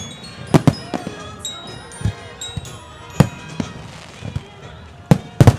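Fourth of July fireworks pop and crack in scattered bursts, some sharp and close, others more distant, with a murmuring crowd in the background.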